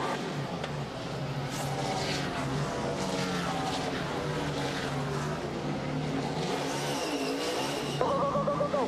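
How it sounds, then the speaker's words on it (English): NASCAR Sprint Cup race cars roar around Kentucky Speedway in 2011, a continuous loud blend of engines passing at speed with rising and falling pitch and a fresh surge near the end. "here comes the race leader, Brad Keselowski, giving up the top spot at lap 240."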